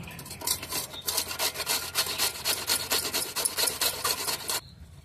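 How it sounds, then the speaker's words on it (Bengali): Cauliflower florets and stalks rubbed against a kitchen grater in steady, rapid rasping strokes, close and fairly loud, continuing for several seconds before stopping abruptly. "এখন আমি ফুলকপিগুলো গ্রেটার দিয়ে গ্রেট করে নেব।"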